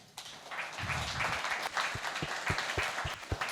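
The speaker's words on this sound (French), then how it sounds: "on peut donner des acclamations à mon frère Mike." A conference audience at a French-language job-fair talk applauds, clapping building quickly into a sustained patter of many hands with a few sharper claps standing out, heard from within the room.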